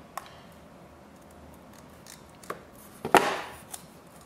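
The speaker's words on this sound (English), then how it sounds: "you can just snip." A few sharp scissor snips sound in a quiet room while a costume piece is being made, with one louder cut near the end followed by a soft rustle.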